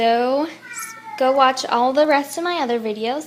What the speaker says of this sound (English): sorry, that was my cat Bubbles